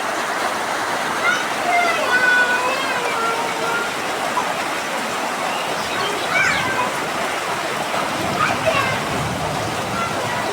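Heavy rain pours down in a dense, steady hiss and patter that runs unbroken, with a person talking over it.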